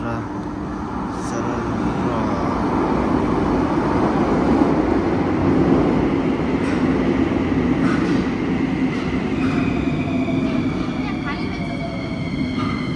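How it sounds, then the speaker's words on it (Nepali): A Bucharest metro train pulls into the station with a loud, steady rumble of wheels on rails lasting throughout, overlaid by thin whining tones that shift in pitch as the cars roll in. "गाडी आएको छम्म हेर्नु सक्नुहुन्छ गाइजहरू। मेट्रो आयो हाम्रो चाहिँ है।"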